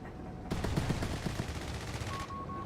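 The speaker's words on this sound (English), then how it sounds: "Got another strafing one coming in here." Strafing-run gunfire in the strategy video game Company of Heroes 3: a loud, rapid burst of machine-gun fire lasting about two seconds, stuttering shots close together over a steady game background.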